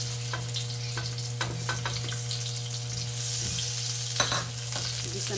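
Chopped onion sautés in hot oil in a pan: a steady hiss of frying with a low hum beneath, broken by scraping stirs and clatters, the sizzle swelling louder near the end.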